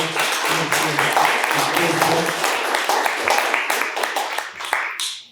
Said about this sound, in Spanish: les pido un aplauso para el ganador